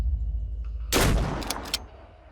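A shotgun in the video game Phoenix Point fires one loud booming blast with a short rattling tail after a quiet moment, alone with no speech.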